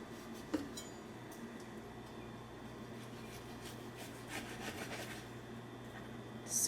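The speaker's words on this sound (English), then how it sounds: "first I'm just going to kind of cut the bone out to see what we're working with to slice" A knife saws and scrapes along the bone of a ribeye steak, cutting it out. The rubbing strokes are quiet and close, with a few faint clinks and no talking.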